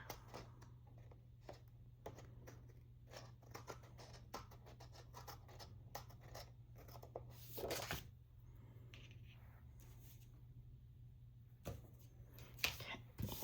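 A paper planner page is trimmed with quiet, close snips and scratchy cuts, irregular taps and rustles over a low steady hum, with a few louder handling bumps.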